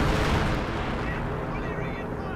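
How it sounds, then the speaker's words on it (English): Artillery shells bursting in a strategy video game, a dense rumbling barrage of booms over about two seconds, loud and close, with a voice talking over it. "I think that was major artillery"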